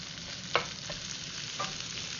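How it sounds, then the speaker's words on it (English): Mushrooms sautéing in a pan give a soft, continuous sizzle with a couple of brief stirring scrapes, close and without talk. "We want to get nice little saute on the mushrooms."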